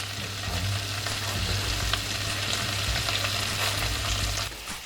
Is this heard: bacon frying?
yes